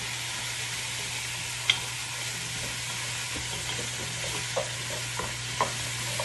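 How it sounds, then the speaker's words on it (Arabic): Chicken and vegetables sautéing in a pan with spices and stock, a steady soft sizzle throughout with a low steady hum underneath and a few light utensil clicks. "نضيف عليه البهارات الفهد والمرق الماكي ونبدا نحمسها"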